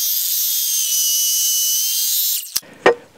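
Lightweight power saw cutting through a timber rafter for a dovetail log cabin build, a loud, steady high-pitched whine that cuts off abruptly, followed by two sharp knocks of wood or tool.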